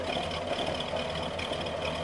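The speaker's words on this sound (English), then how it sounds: "when it's at idle, it makes that annoying pop sound as the outside of the muffler kind of like expands and contracts" A 1978 Mercury Marquis engine idles with a steady low rumble and irregular soft pops from a weak, flexing muffler, heard close and alone without voices.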